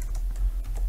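A URL goes in on a computer keyboard in a handful of quick, light key presses at close range, with no voices.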